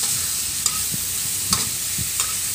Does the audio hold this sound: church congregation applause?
no